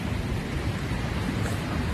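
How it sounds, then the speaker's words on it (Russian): Rain falls steadily in a game storm in Batman Arkham Shadow, a dense close wash of noise with a low rumble of thunder underneath, constant and without talking. "В этот раз дождь."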